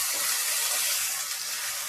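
Vegetable bhaji fries in a pan with a steady, loud sizzling hiss that stays even and close throughout, with no talk.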